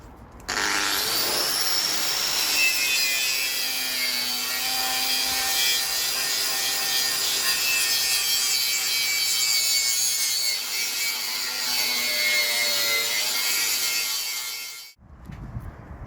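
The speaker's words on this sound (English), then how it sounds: "I've gone over with the wire wheel on the grinder and on the drill" Wire wheel on an angle grinder scrubbing rust off a metal crash bar from a Mazda MX-5 NC, a steady loud abrasive whine held for about fourteen seconds before cutting off.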